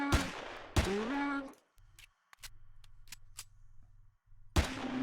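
Several short, sharp gunshot snaps from Empyrion: Galactic Survival, scattered over a low hum between stretches of someone talking.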